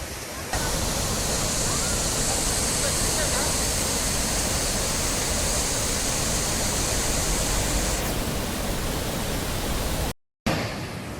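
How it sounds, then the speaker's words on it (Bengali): The Trilokinath waterfall in the Himalayas roars continuously, a dense, loud rush of falling water that cuts out abruptly near the end. "দারুণ ঝর্ণা একটা, ত্রিলোকীনাথ ঝর্ণা"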